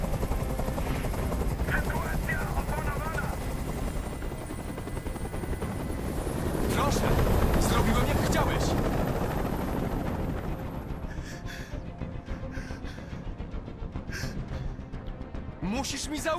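A loud, continuous helicopter rotor drone fills the scene, with bursts of rapid gunfire and a voice shouting over the roar, in the video game Detroit: Become Human.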